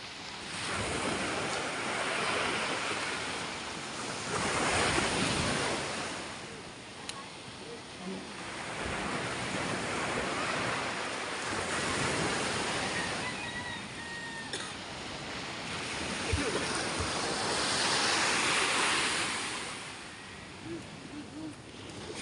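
Rough sea waves surging onto a beach shore where boats are being hauled up, heard as broad rolling swells of surf that rise and fall in several long pulses, with wind noise and a voice talking over them.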